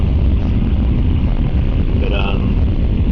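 A BMW E46 323i engine runs with a raspy note, a steady, continuous low rumble that holds evenly throughout with no break.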